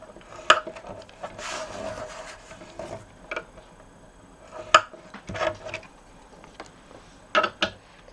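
Cardstock is scored on a scoring board with faint, sparse scrapes and soft taps, a few short strokes nearby and no talk.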